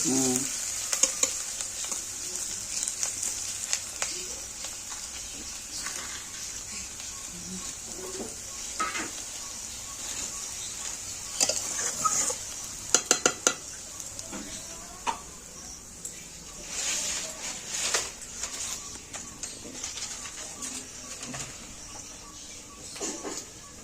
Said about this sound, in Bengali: পেঁয়াজটা ভাজা হয়ে গেলে শাক দিয়ে দিবে।